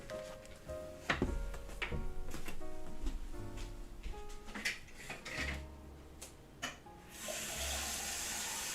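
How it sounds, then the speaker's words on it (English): A kitchen tap runs to refill a glass of water, a steady stream under scattered clinks, knocks and handling clatter, ending in a brighter rush of flow. "I'm going to super quickly grab a quick refill of water"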